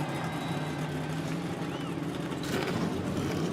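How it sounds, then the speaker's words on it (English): Several NASCAR stock car engines fire up at Darlington Raceway and settle into a steady, loud combined drone, joined by a broadband burst of extra noise about two-thirds of the way through. "As engines come to life here at Darlington Raceway."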